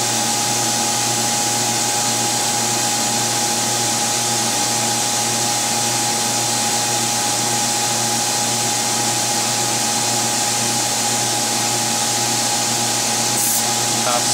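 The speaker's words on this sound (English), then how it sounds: "that cooling air that you can hear will switch back off again." Nitrogen cooling air blows loudly and steadily inside an EVG 520 wafer bonder, a constant rushing hiss with a machine hum underneath that continues without pause for the whole stretch.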